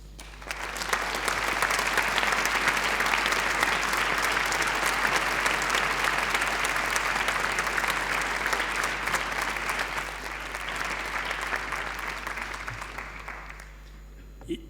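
Long, sustained applause from an audience under the dome of a formal French institute prize ceremony, full and even for over ten seconds before thinning and fading out at the end.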